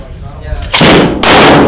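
Two loud rifle gunshots at a shooting course, sharp broadband blasts about half a second apart, each followed by a ringing decay, heard close and alone without talk.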